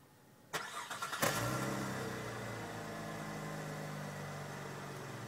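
A 2012 Cadillac CTS engine cranks briefly and catches, then settles into a steady idle, heard alone and close by on a chilly day.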